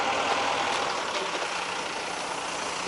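Heavy trucks rumble along a road in Dilijan, Armenia, a loud, close, continuous engine roar that slowly fades slightly as they pass, with no talking.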